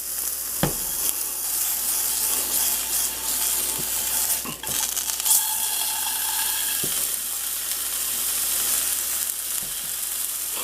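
Goose sausage patty sizzling and frying in a pan, a steady hiss close up with occasional clicks and taps of utensils against the cookware.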